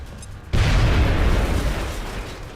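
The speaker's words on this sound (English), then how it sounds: "Someone has to be able to throw a grenade or something. Grenade!" Grenade detonating in XCOM: Enemy Unknown, a sudden loud blast after a quiet moment, followed by a long rolling, crackling roar that slowly fades over a couple of seconds.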